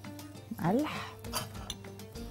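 Roasted potato salad is stirred in a bowl with a utensil, giving a few light clinks and scrapes against the dish over about two seconds, with a brief voice sound near the start.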